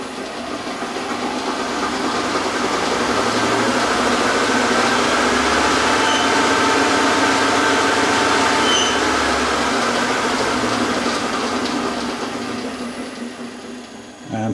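A 9x20 metal lathe runs steadily and fairly loud throughout, its broadband mechanical drone layered with a faint repetitive clicking from a worn drive belt.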